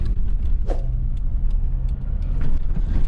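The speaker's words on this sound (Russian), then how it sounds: "Ой, ничего себе, машин сколько." Dense road traffic, many cars passing close by in the evening, gives a loud steady low rumble with occasional whooshes and hiss of tires throughout.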